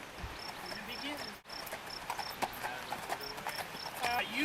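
Horse hooves clip-clopping in a steady walking rhythm at moderate distance, with insects chirping in the background.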